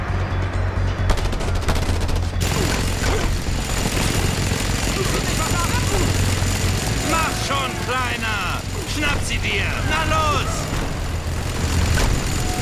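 Sustained gunfire in the video game Just Cause 2, rapid bursts and shots layered over a dense noisy battle backdrop with chirping game effects, loud throughout.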